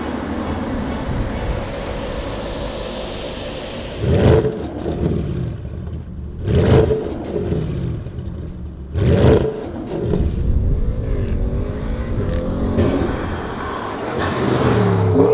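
A Stage 1 tuned car on a test drive, its engine and road noise roaring loudly inside the cabin, with repeated surges and gear-change dips as it accelerates, and no talking.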